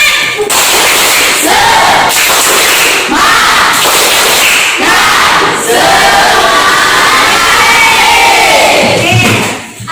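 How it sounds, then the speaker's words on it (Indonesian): A class of students doing a rhythmic spirit clap cheer, loud and close, with sharp repeated claps and shouted voices in bursts across the whole stretch. "Mari kita tepuk semangat!"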